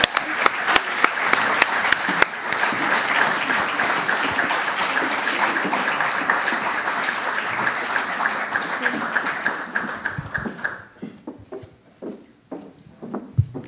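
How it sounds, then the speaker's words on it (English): A conference audience at IPC 2018 applauds the executive board gathered on stage: a dense, sustained round of clapping for about ten seconds that thins out into scattered claps and a few light thuds near the end. "And if you could give a round of applause for these people."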